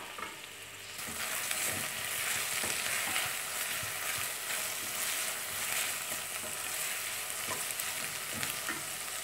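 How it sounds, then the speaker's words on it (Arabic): Onion frying in a pan of oil for a milk couscous, a steady close sizzle with faint stirring scrapes starting just after a quiet first second and running unbroken to the end. "نوضع ليه هنايا البصله نخليها تشحر شويه"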